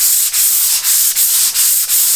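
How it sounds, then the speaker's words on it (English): Wood is hand-sanded lightly with almost no pressure, giving a steady, close, hissing rub. Five even back-and-forth strokes are each separated by a brief pause. "you want to keep the sanding light as you can"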